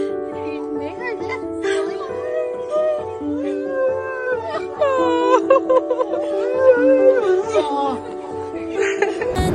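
A dog howls and whines in long rising and falling wails, close by, with excited voices and laughter mixed around it.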